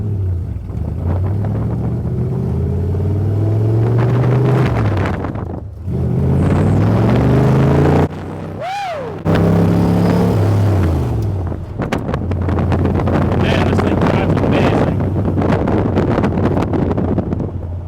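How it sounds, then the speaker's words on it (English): A 1965 Shelby Cobra tribute car's V8 engine drones and surges as it drives, rising and falling through gears with a brief lull midway, accompanied by wind buffeting, with no talking. "listen to that gorgeous, beautiful V8"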